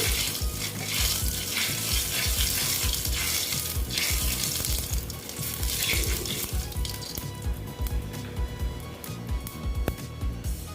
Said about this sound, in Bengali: দেখো তেলটা প্রায় গরম হয়ে গেছে এখন আমি ফোড়ন দিয়ে দিচ্ছি গোটা জিরে দেখো জিরেটা হতে দিচ্ছি